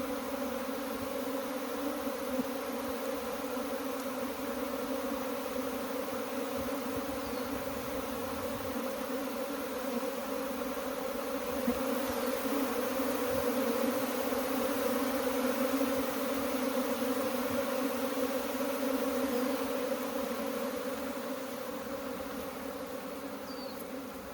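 A swarm of bees pours out in a dense, continuous buzzing drone close by. The hum holds steady throughout and swells slightly in the middle.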